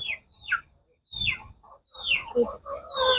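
Chickens kept as a breeding pair on a small farm give short, scattered clucks and squawks at close range, with some light rustling between the calls.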